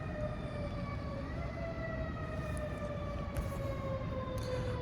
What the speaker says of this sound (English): it wasn't no sirens going off up until now